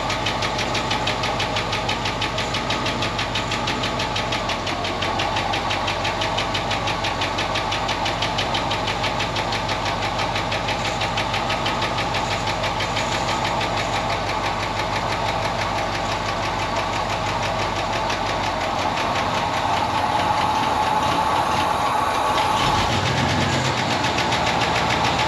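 A Ford Econoline van engine idling with a ticking lifter, a steady loud close rumble overlaid with a fast, even mechanical tick throughout, with no voices.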